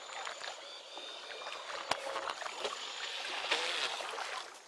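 A Steed 3F Sport RC boat buzzes across the water with steady splashing and rushing spray, fairly close, with no one talking.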